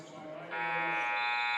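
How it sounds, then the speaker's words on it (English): Basketball arena buzzer marking halftime at a women's college game, a loud sustained electronic tone that cuts in abruptly after a commentator's voice and holds steady to the end. "right before the buzzer"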